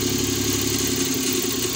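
A Suzuki K6A engine with a faulty turbo runs steadily at idle, a loud continuous mechanical drone with a rough, pulsing vibration close by.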